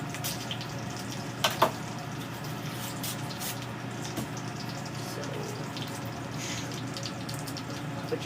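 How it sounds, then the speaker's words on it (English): A pan rinsed under a running kitchen tap, a steady close hiss of water with a couple of brief knocks and splashes as the pan is handled, no talking. "I'm going to rinse that pan out actually, because I don't want all that minced garlic in there."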